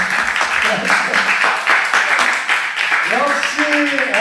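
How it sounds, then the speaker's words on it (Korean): A church congregation claps together in loud, dense applause at a Sunday service, mixed with voices and cheering, and a voice rising clearly over the clapping near the end. "박수!"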